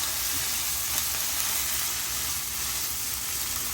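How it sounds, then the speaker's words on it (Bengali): Steady, dense sizzle of ground pastes being stirred into hot oil, a continuous close frying hiss with faint stirring scrapes, for a Bengali pumpkin-leaf and prawn paste dish. "তেল আর বাটাগুলোকে ভালো করে মিক্স করে নিতে হবে"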